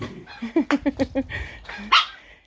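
A small dog barks on command, a quick run of five or six sharp yaps followed by a louder single bark, close and clear with a little background noise.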